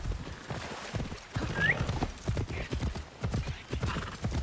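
Horse hooves in the video game Assassin's Creed Shadows clip-clop rapidly in a steady galloping rhythm, with a brief whinny partway through, fairly close and clear.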